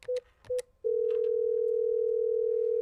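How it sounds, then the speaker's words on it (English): Telephone call tones while dialing a contractor: two short ring beeps, then a steady continuous tone holding to the end, clear and alone. "We tried to reach him by phone,"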